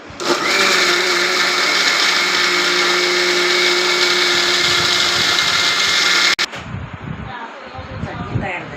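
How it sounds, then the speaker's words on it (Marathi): A mixer grinder runs steadily at full speed, grinding batter for onion and tomato uttapam, a loud continuous whine and hum lasting about six seconds before cutting off abruptly, followed by faint kitchen clatter. "पातळ कशी पाहिजे तशी आपण थोडीशी बारीक करू पात"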